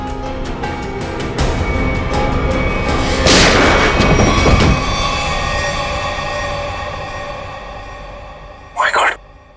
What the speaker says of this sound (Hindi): सर, इसने अपने आप को गोली मार दी।